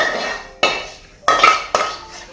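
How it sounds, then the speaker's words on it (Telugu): Rice is mixed with tempering in a metal pot for mustard pulihora, four sharp clanks of a spoon against the pot, each fading quickly, close and with no talk. "కలిపి పెట్టుకున్న అన్నంలో ఈ పోపును వేసుకోవాలి"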